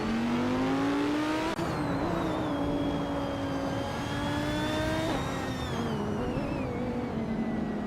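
2015 Onroque Ligia JSP3 LMP3 race cars in a racing video game, engines droning and whining through shifts, pitch rising and dropping with a sharp gear change, steady and close with no talk.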